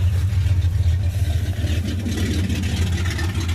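Parked-for-20-years Ford F150 with a 302 V8 idling low and cold, a steady deep rumbling throb with an even pulsing rhythm, close and loud.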